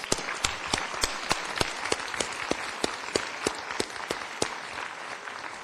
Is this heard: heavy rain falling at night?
no